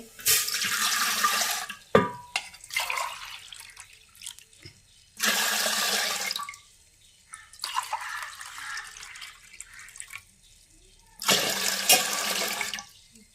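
Water is poured from a cup into a pot for jaggery rice made with dried rice, three cup-length bursts of splashing pouring separated by quieter gaps with a few drips.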